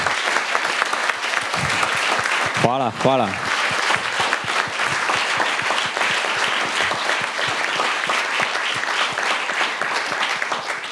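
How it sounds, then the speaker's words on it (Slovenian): Audience at a film premiere applauding, a loud, sustained ovation of dense clapping that fills the whole stretch, while a voice briefly says thanks partway through. "zasluži en velik aplavz za vse opravljeno delo"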